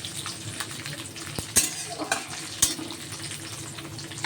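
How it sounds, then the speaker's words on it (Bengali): Cashews and raisins sizzling in a pan over low heat, a soft, steady frying hiss broken by a few sharp clinks of a spoon against the pan, heard up close. "কাজু কিশমিশটাও দিয়ে দিলাম।"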